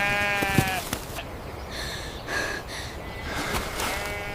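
A flock of sheep bleats close by in repeated overlapping calls, one loud quavering cry near the start followed by several higher, fainter bleats from other animals, with no talking.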